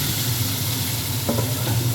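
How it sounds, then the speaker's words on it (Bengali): Mutton pieces drop into hot oil in a large pan and sizzle loudly in a steady, dense hiss, with a brief stir or scrape partway through. "মাংসটা দিয়ে দিচ্ছি"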